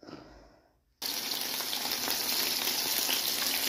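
Chicken tenders in a spice-and-yogurt marinade fry in a pan, golden-browning, with a steady, close hiss of sizzling oil starting abruptly after a brief quieter moment and holding evenly throughout.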